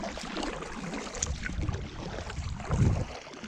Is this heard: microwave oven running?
no